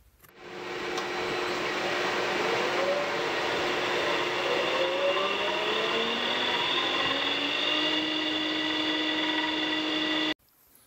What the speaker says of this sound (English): With the generator spinning